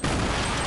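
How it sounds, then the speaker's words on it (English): A grenade detonates in a video game: a very loud, close, booming blast that fills a brief moment on its own. "Are those your nades?"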